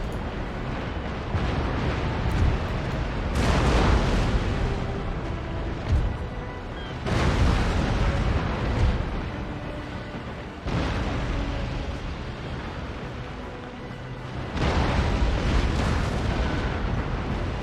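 Broadsides of naval cannon fire roll out from ships during a sea battle in Empire: Total War, with heavy booming volleys that come in several long, rumbling bursts and fall away between them.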